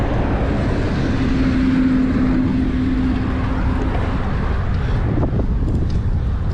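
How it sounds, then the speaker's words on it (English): Wind roars hard across the microphone while cycling along a paved Florida rail-trail, a loud, steady rumble that buffets throughout with no speech. "With wind on my back."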